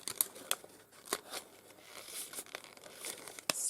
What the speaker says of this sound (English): you could cut down with the scissors a little snippet